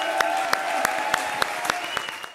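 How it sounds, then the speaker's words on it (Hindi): A studio audience at a televised comedy show applauds a VIP guest, sustained dense clapping from many hands, loud and close, tapering off at the end. "जोरदार तालियां वीआईपी के लिए"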